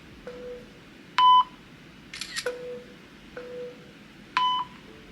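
Several sharp camera shutter clicks ring out over a soft background hiss, with short electronic beeps between them, spaced a second or so apart.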